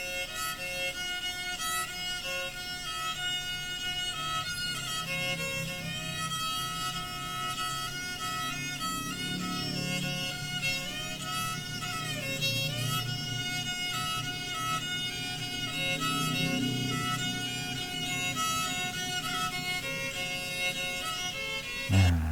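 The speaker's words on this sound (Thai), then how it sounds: "นี่คือเสียงของโซบ้างนะครับ" An Isan so, a Thai folk bowed fiddle, plays a sustained, wavering folk melody over a continuous drone, steady and moderately loud throughout with no talking.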